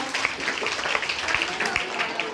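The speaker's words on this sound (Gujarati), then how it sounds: "તેમના માટે એક જોરદાર તાળી પાડજો" Sustained applause from a school crowd at a primary school National Science Day celebration, steady dense clapping for the principal, with a voice speaking over it.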